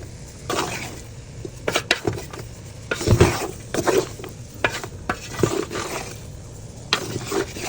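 Fried rice stirred in a pot, repeated scraping and clinking of a spoon against metal in an irregular rhythm over a soft sizzle, close and fairly loud; no talking.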